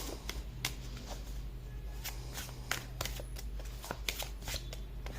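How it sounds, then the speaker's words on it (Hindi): Close, quiet shuffling of a deck of playing cards: a run of soft riffling flicks and paper snaps over a low steady hum, with no talk. "अब शफल करते हैं।"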